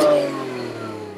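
BMW E30 with an M50 B25 engine and open filter, a brief rev that peaks at the start and then falls away into a steady idle drone, close and fairly loud.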